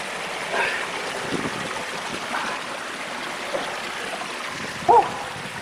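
Steady broadband rush of water flowing over a canyon waterfall in southern Utah, a constant hiss with faint splashes and a brief closer sound near the end, no talk.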